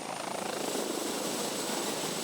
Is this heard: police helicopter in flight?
yes